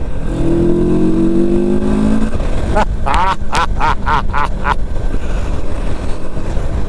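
A CFMOTO Adventura 650 motorcycle engine idles, then is revved in a quick series of about six sharp throttle blips, loud and close.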